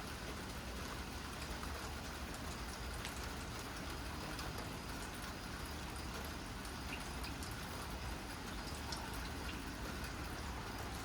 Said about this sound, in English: Also looks like it's gonna keep raining for a little bit